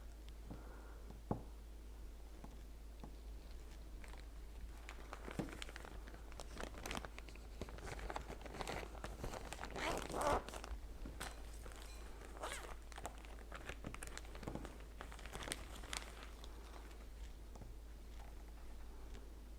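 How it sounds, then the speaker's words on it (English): A Ziploc plastic bag holding a damp paper towel of germinating onion seeds is pressed shut, giving faint, close crinkles and a soft zipper-like rasp among scattered handling clicks and rustles. "let me close this and put it in the Ziploc again"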